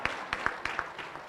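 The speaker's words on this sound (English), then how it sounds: "So with that, clap for me." A few scattered hand claps from a small conference audience, faint and irregular, about half a dozen sharp slaps over a second and a half with no voices.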